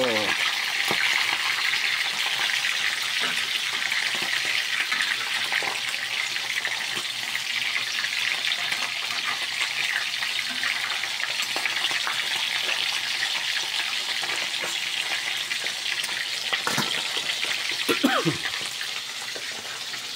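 Steady crackling sizzle of food frying in a pan, continuous throughout with occasional clinks and faint voices in the background.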